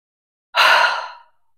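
A single deep exhale during prenatal Pilates: one soft, breathy sigh lasting under a second, close to the microphone, with no talk around it.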